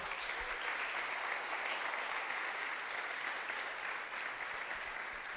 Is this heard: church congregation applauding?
yes